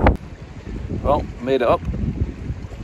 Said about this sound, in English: the wind's at times gusting pretty nasty